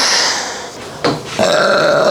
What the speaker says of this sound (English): for the people wondering why I'm no longer burping in videos, I am. I never stopped once.